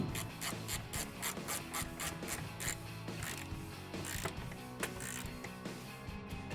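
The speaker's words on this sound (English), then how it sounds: "now I'm gonna grab an 11mm socket and tighten down that bolt" An 11mm socket ratchet tightening a bolt on the bed rail of a 2009-2018 RAM 1500 while mounting a Pace Edwards SwitchBlade bed cover, giving close, steady rapid ratcheting clicks that run through the whole stretch.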